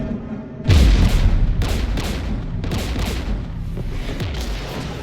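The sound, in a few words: weapon fire and explosions in video game Mass Effect 3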